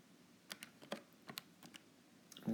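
Several separate button presses on a calculator, used while working out a cosine for a maths exam question. Scattered sharp clicks come over about two and a half seconds, close and faint, with no talking.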